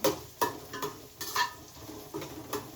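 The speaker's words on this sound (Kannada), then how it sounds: "ಈರುಳ್ಳಿನೂ ಹಾಕೊಂಡಾಯ್ತು ಇದು ಸ್ವಲ್ಪ ಗೋಲ್ಡ್ ಕಲರ್ ಬರೋವರೆಗೂ ಚೆನ್ನಾಗಿ ಫ್ರೈ ಮಾಡ್ಕೋಬೇಕು" Onions frying in a pan for biryani, a faint steady sizzle broken by soft scraping stirs and light clinks of a spoon against the pan, with nobody talking.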